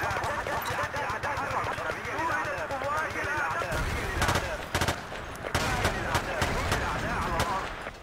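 Sniper rifle gunfire in Battlefield 2 multiplayer, set in Mashtuur City, several sharp cracks in the second half over constant battle noise and engine rumble.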